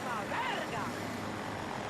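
A Nightbird helicopter flies in the video game Battlefield 2042, its steady rotor and engine roar filling a short stretch, with someone talking over it.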